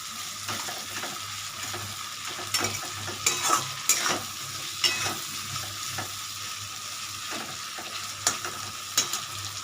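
Prawns fry in oil in a pan for a mustard-poppy seed prawn curry, giving a steady close sizzle broken by irregular scraping and stirring clatters, with no talk.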